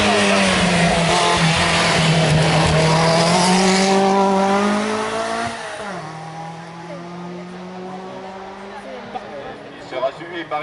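A 1993 Peugeot 405 T16 rally car races up a hill climb, its engine revving hard and loud, then dropping in pitch as it pulls away, with a voice talking over it.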